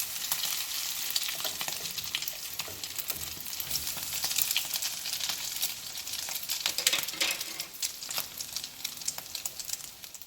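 Tuna patties fry in a hot pan, a steady bright crackling sizzle with scattered pops and spits that stays fairly loud throughout, with no voices.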